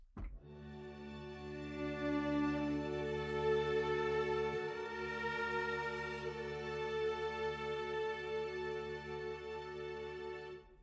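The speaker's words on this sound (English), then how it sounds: "So you can listen to the sections individually if you only need, for example, the strings." A sustained, rich chord from an orchestral sample library's bowed string section swells gently and holds for about ten seconds, smooth and unaccompanied.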